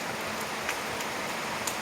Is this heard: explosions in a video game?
no